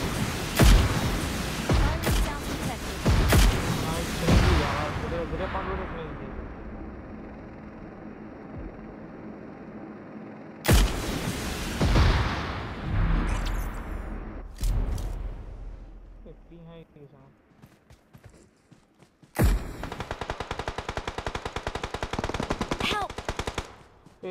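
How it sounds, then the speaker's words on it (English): Gunfire in PUBG Mobile breaks out in loud bursts of rapid automatic fire and single shots, stopping abruptly in places, with quiet stretches between the bursts and voices talking over parts of it. "Firing sounds detected."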